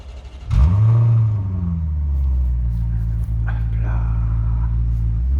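A Maserati GranTurismo's 4.0 V8, the engine shared with the Ferrari F430, fires up with a sharp rev, then settles into a deep, steady idle rumble close by as people talk over it.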